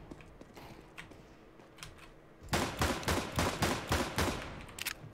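Bursts of rapid video game gunfire crackle in quick, dense volleys in the second half, following a quieter stretch of light clicks and scattered shots.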